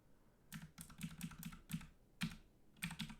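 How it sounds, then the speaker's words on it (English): A computer keyboard gets hit by accident during a Dungeon Crawl Stone Soup game session: about eight sharp, close key clicks come in an irregular burst, with no talk over them. "I just fat fingered the keyboard."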